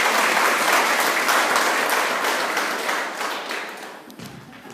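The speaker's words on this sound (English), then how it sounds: "Could we give our cross country champions a clap," A school audience at an end-of-year presentation day gives loud sustained applause to cross country champions, the clapping thick at first then gradually tapering away.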